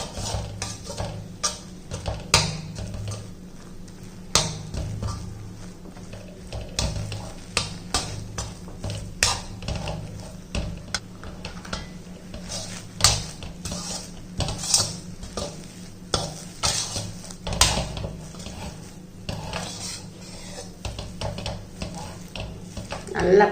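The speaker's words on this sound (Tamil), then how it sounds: "நல்லா அப்படி கிண்டணும்." Ragi flour being stirred into boiling water in a pot on a low flame, a steady scraping and knocking of a spoon against the pot with soft bubbling throughout, close and continuous with no talking.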